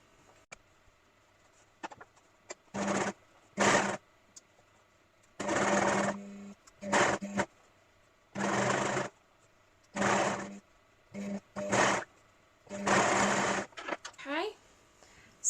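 A sewing machine stitches the front panel of a crop top with a ruffle. It runs in about ten short bursts, each buzzing for a second or so, with quiet pauses in between.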